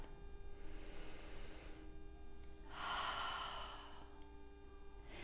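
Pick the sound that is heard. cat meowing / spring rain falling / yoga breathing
yoga breathing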